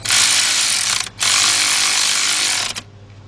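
A cordless ratchet buzzes in two short bursts, tightening an alternator bolt on a 2009 Chevy Tahoe with a 5.3 engine. The mechanical rattle is close and loud, and no one speaks.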